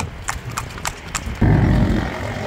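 Horse pulling a tourist carriage through the streets of Luxor, Egypt, its hooves giving a steady clip-clop of about four close strikes before a louder, low rumble of wheels and street noise takes over.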